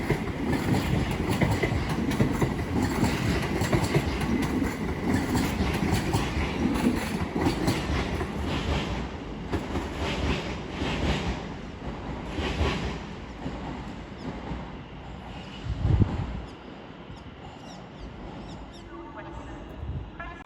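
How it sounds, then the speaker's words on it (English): London Northwestern Railway class 730 electric multiple unit, 730-048 leading with 730-042 at the rear, departing London Euston for Tring; a steady loud rumble with rhythmic clickety-clack of wheels over rail joints that gradually fades as it pulls away. "As off goes the 1209 London Northwestern Railway service to Tring, 730-048 leading with 730-042 at the back."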